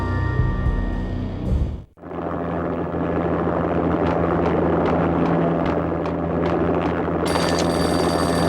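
An armed helicopter settling onto snowy manor grounds in the PS2 game Max Payne. A loud, continuous rotor and engine drone follows a sharp cut-off, holding steady and near for several seconds, with no talking.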